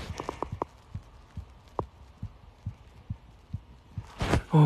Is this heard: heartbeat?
yes